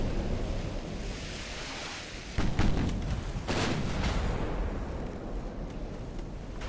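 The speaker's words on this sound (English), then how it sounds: "Now we are firing at a heavy cruiser with just 10-inch guns." Warship guns firing in the naval game Ultimate Admiral: Dreadnoughts, 10-inch guns against a heavy cruiser, a few sharp booms over a steady wash of ocean waves and wind, with no talk.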